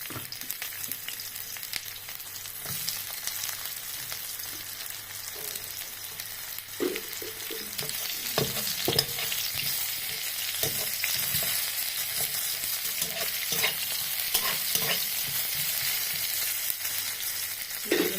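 Chopped onion frying with black cumin in a little oil, a steady close sizzle that grows fuller partway through, with intermittent spatula stirs and scrapes and no voices.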